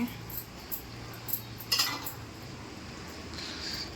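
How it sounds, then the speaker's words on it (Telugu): A utensil stirring fish curry in a cooking pot gives light scraping clinks at irregular intervals, soft and close against a steady kitchen background hum. "ఇప్పుడు మళ్ళీ ఇంకోసారి మిక్స్ చేస్తున్నాను"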